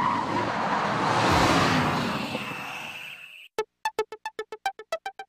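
A Mercedes-Benz SLS AMG supercar in the racing game Gran Turismo 5 roars loudly with squealing, skidding tires, the noise cutting off abruptly and giving way to a rapid series of sharp, evenly spaced clicking pulses.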